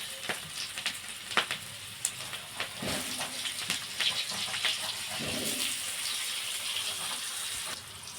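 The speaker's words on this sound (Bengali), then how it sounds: "আলুগুলো ছেড়ে দিলাম। আলু লাল করে ভেজে নেব।" Potatoes frying in oil tempered with panch phoron give a faint sizzle with scattered crackles and stirring clinks, steady and fairly quiet throughout.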